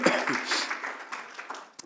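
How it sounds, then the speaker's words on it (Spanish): A church congregation applauds during a Sunday service, with brisk clapping that fades over a couple of seconds and a brief voice rising near the end. "Démosle un aplauso fuerte que hoy es. Déselo más fuerte al Señor."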